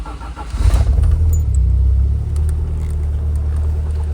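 A 1990 Lancia Delta Integrale HF 16v cranks briefly and fires up with a loud rumbling catch, then settles into a steady, smooth low idle close by.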